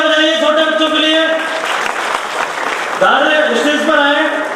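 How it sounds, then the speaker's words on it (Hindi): Audience clapping for small children coming on stage at a Dr. Ambedkar Jayanti celebration, a steady loud wash of applause mixed under a sustained musical tone, continuing through with a brief dip midway. "जोरदार तालियां बजाइए छोटे बच्चों के लिए।"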